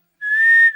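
A single steady high whistle, sudden and mysterious, starts abruptly and holds for about half a second, loud and clear against silence.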